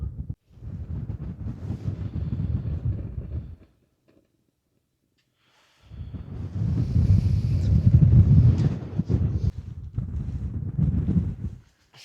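Desert wind at Giant Rock in Joshua Tree buffets the microphone in loud, rumbling gusts, dropping to near silence for a couple of seconds before roaring back.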